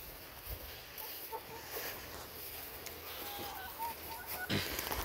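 Meat chickens on a farm cluck faintly a few times against a steady outdoor background hiss, brief soft calls at a distance with no talk.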